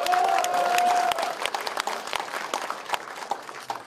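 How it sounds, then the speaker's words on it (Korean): A large audience at a Democratic Party regional primary convention in Jeju breaks into loud, dense applause that runs continuously and eases slightly toward the end. "박수를 한번 보내주십시오"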